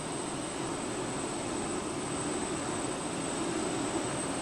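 Aircraft engine drone from a plane slowing on approach in the airport-management game World Of Airports: a steady, moderately loud broadband roar with a constant high whine, running evenly throughout with no talking.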